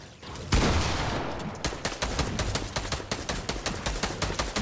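Rapid gunfire in the video game Fortnite: a sharp opening blast followed by a steady, fast train of loud close shots, each burst cracking out in a regular rhythm with no talk.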